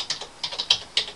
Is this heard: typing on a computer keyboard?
yes